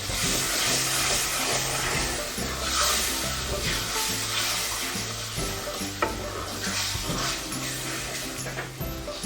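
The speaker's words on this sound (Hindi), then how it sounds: "अब मैं इसमें डालूँगा जनाब ये 1 कप दही" Yogurt poured into fried red masala in a pan for a bean gravy, a dense, steady sizzle with stirring scrapes running throughout, fairly loud and close, with no voices.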